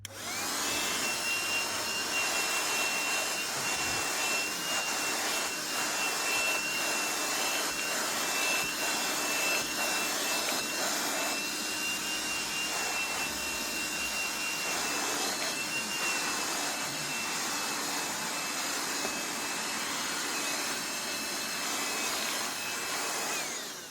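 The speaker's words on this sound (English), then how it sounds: "let's try to vacuum some of that up" A Black+Decker Beyond cordless Dustbuster handheld vacuum runs steadily and loudly while cleaning pet hair and dirt off car seats, a constant whining motor hum with a high tone that lasts the whole stretch, with no voices.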